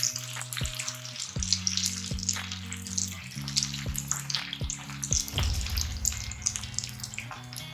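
Chicken pakoda pieces fry in hot oil with a busy, crackling bubble throughout, broken by several sharp clicks and thumps as pieces are dropped in one by one, heard close with no talking.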